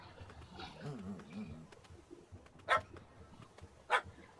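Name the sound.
puppy barking in The Witcher 3 video game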